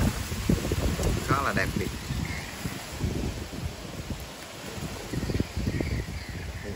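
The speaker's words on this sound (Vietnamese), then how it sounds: "Hiện giờ thì do thời tiết trời gió rất là lớn, phần âm thanh nó không được rõ này." Strong outdoor wind buffets the microphone in a Vietnamese ornamental garden among duối and sơn trà trees, a steady low rumble with gusts under someone talking, with faint leaf rustle and a distant crow.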